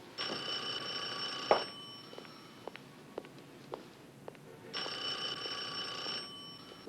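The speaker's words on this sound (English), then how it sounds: "Jennifer, your phone's ringing. You should answer it" An indoor telephone gives two separate bursts of electronic ringing, one at the start and another near the end, with faint room sounds in the quiet gap between them.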